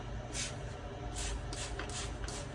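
Acrylic paint wash sprayed from a hand sprayer onto a model railroad canyon scene, five short hissing bursts spaced roughly evenly over a low background hum, fairly quiet and close.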